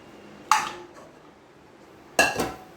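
Spoon stirring appam batter in a pot while making Kerala-style kalathappam, two sharp metallic scrapes and clinks against the vessel, about a second and a half apart, in an otherwise quiet kitchen.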